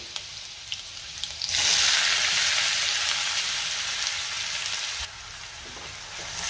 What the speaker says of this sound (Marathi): आणि आता आपण कांदा घालूया।